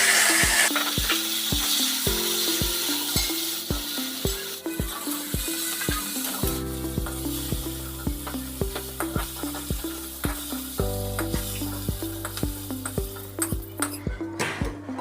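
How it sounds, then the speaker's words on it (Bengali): Lightly steamed yardlong beans frying in oil with salt and turmeric in a pan, steady sizzle under an evenly pulsing background beat, loud and continuous throughout. "ওই তেলে নুন হলুদ দিয়ে হালকা ভাপানো বরবটিগুলো দিয়ে দেবো।"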